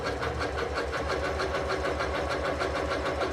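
A sewing machine runs a zigzag stitch over yarn to gather ruffles, with a fast, even mechanical chatter and a low motor hum that hold steady throughout.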